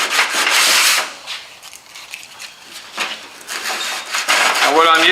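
Coarse 80 grit sandpaper rubs over dried polyester body filler in short hand strokes, a rough scratchy rasp that comes in bursts, close up, with a voice speaking briefly near the end.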